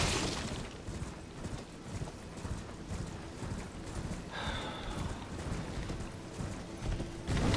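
Horse hooves clip-clopping in Elden Ring on the Altus Plateau, a steady rhythmic trot of close, clear hoofbeats running throughout, with a brief high whinny-like sound midway.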